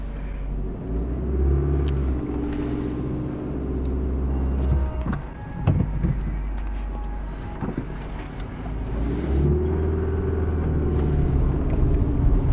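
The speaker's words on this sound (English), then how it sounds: "Oh, the car rolls now." A 1987 Toyota Camry with manual transmission rolls along on a drive, its engine giving a steady low rumble that swells and eases, with a few brief knocks near the middle and no talk.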